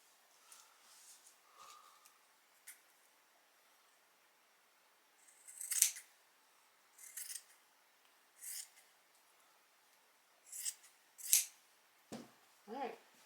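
Scissors snip through men's flannel shirt fabric along a marked line, a series of short crisp cuts in irregular bursts with quiet pauses between, close and clear with no talking.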